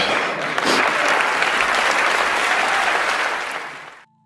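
Audience at the Oscars ceremony applauding and cheering, a dense, loud, sustained wash of clapping that holds steady for several seconds before cutting off abruptly.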